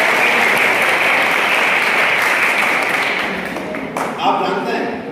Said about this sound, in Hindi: बच्चों ताली बजाओ